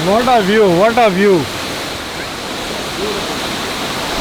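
Steady roar of a waterfall in Turkey, a broad rushing wash of water that runs throughout, with someone speaking over it at the start before the water continues alone.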